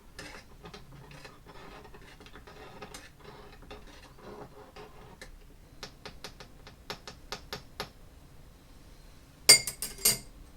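A spoon stirs a pear, matcha and pisco cocktail over ice in a glass, giving light metallic clinks and ticking ice contacts in loose rhythm, close and quiet, ending with a few sharper, louder clinks.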